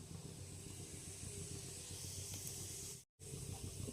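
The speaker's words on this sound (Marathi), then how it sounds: "तेल गरम झालं की जिरे टाकून घ्यायचे।" Cumin seeds sizzle in hot oil in a kadhai on a gas stove, a soft, continuous hiss that stays even throughout and cuts out for a moment near the end.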